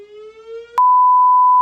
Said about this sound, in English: That was the fire alarm that just went off